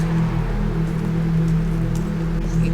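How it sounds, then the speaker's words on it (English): Rain falls at night outdoors near a waterfall, making a steady, dense hiss and patter over a constant low rumble, with no voices. "It's raining."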